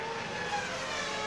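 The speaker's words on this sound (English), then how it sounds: "You can hear them popping and splashing away on the traction control." Formula 1 race cars at the 2001 Spanish Grand Prix, engines popping and crackling under traction control, form a steady, loud, high-pitched racing roar that carries throughout with no voices over it.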